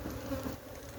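Africanized bees, being captured from a wild colony in Guyana, give a dense, steady, close buzzing drone across the brief moment, with no talk.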